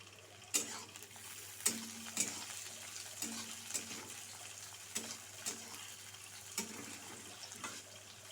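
Fish roe frying with tomato and chili in a pan, a quiet steady sizzle broken by repeated sharp scrapes and clinks of a utensil stirring, fairly close, no talking.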